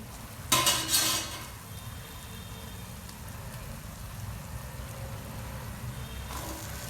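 Spices sautéing in oil in a pan for a gavar (cluster bean) curry: a steady soft sizzle throughout, with a brief clatter of stirring near the start and again at the end.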